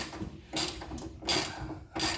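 Ratchet working a rusty bolt on a 1977 MGB roadster door, three short bursts of clicking strokes, close and fairly quiet, separated by brief pauses with no talking.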